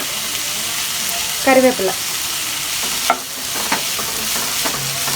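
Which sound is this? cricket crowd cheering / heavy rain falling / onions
onions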